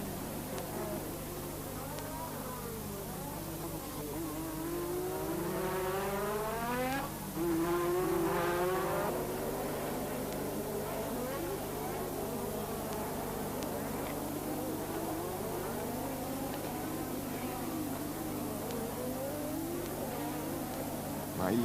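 A 1986 Formula 1 turbo race car engine in Spanish television race coverage, droning steadily with rising and falling high-pitched whines as cars pass, under continuous commentary.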